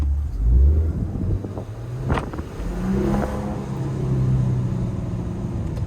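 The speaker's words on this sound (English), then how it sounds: "you can't deny this exhaust sounds incredible" A 2022 Maserati Ghibli Modena Q4 engine rumbles and revs, its exhaust note rising and falling under wind noise, loud and close.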